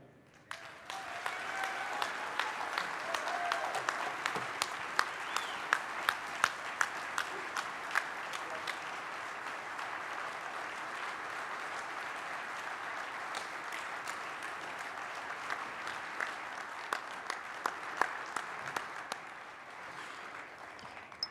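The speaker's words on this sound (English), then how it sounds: "one more round of applause for Dan Adler" Sustained applause from an audience following a keynote speech at the Wild Sheep Foundation Sheep Show, lasting about twenty seconds, with many individual sharp claps standing out from the dense wash before it slowly thins near the end.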